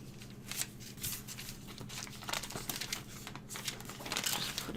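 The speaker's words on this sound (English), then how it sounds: "And now the same thing with the parchment paper. All you have to do is just pull it down a little bit." Parchment paper crinkling and rustling as it is pulled down into layers of a dessert mould, a near, continuous papery crackle with several louder crunchy bursts.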